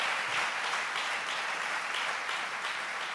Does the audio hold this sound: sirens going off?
no